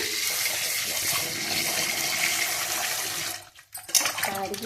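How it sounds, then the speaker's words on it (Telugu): Raw green mangoes being washed under running water, a steady loud gush of tap water that flows continuously before cutting off briefly near the end and resuming with splashy handling. "క్లీన్ చేసుకొని కడిగి"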